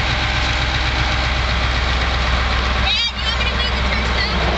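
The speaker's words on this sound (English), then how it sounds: "And you have a Onan Marquee 7000 generator." An Onan Marquee 7000 generator on a converted school bus runs at a steady, loud idle with a rhythmic low engine throb, and a voice speaks over it.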